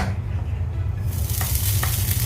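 Grated coconut roasts in a pan, giving a steady close sizzle with faint scraping stirs that grows louder and brighter halfway through, with no one speaking.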